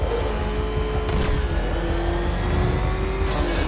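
A car engine revving steadily in a Batman video game, a loud continuous roar with shifting pitch and whirring layers, heard alone without speech.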